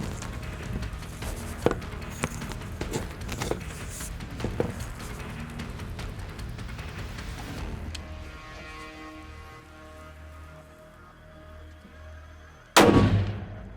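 A single loud, sharp rifle shot rings out near the end while hunting a whitetail buck from a blind in South Texas, following a long stretch of quiet outdoor ambience and faint rustling.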